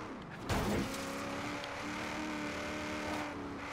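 Race car engine in Forza Horizon 3, a steady droning roar that swells abruptly with a loud burst of revving, then holds an even, sustained tone.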